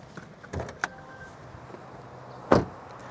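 Hood release of a Volvo XC40 pulled from inside the cabin: a soft click followed by a sharper, louder thunk a couple of seconds later, close and otherwise quiet.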